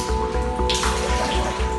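Water in an indoor swimming pool in a swaying high-rise sloshes and splashes steadily under a constant low hum, loud and continuous throughout.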